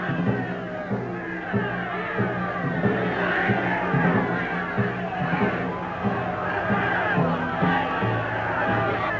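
A large crowd of demonstrators charging police lines, a dense roaring mass of shouting voices with rhythmic surges and chants, loud and continuous throughout.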